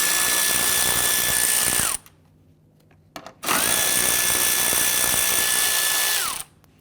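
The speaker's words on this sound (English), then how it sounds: "loosen and remove 2 10mm bolts right here" A power tool loosens 10mm radiator bracket bolts on a 2011-2015 Kia Sorento during AC condenser replacement, whining loudly in two long bursts that wind down at the end of each, with a short clunk in the quiet gap between them.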